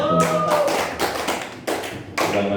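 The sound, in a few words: audience applause at a quiz competition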